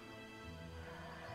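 Horses neigh and whinny in a video game match, a steady dense stretch of whinnying with a faint clip-clop of hooves, loud and close throughout.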